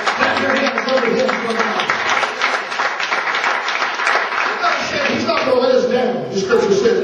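A church congregation claps hands steadily and continuously, a dense wash of applause throughout, with voices talking and calling out over it.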